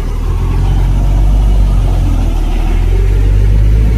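A truck engine rumbles steadily at close range while the truck is being parked, a loud, continuous low drone with no talk over it.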